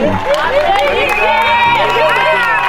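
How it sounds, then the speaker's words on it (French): A lively wedding crowd cheers and shouts at a civil ceremony, with excited voices rising and falling over steady background clapping, loud and close throughout. "Veuillez applaudir."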